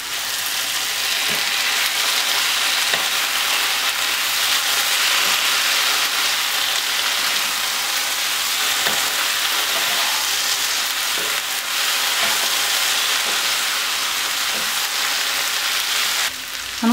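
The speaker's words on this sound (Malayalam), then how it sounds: "നമുക്ക് ഇനി ഇത് മീഡിയം ഫ്ലെയിമിൽ ഇട്ട് ഇളക്കി ഇളക്കി നന്നായി ഫ്രൈ ചെയ്തെടുക്കാം" Beef for a spicy Kerala-style fry sizzling in a pan over a medium flame, a loud continuous frying hiss with occasional faint clicks from stirring, close up and without any voices.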